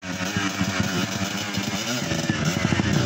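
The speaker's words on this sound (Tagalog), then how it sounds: "Galitin mo yung motor habang ikay bumibira." Trail motorcycle engine revving hard while climbing a dirt trail, a loud, close, raspy buzzing drone with rising and falling throttle pulses throughout.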